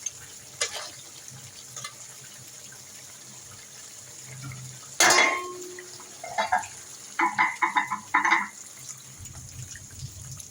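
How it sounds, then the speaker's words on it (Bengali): Hot water is poured into a pot of beef bhuna, a sudden splash and hiss followed by short bursts of bubbling and spatter, quiet kitchen background otherwise. "এখানে আমি এখন আবার একটু গরম পানি দিয়ে দিব"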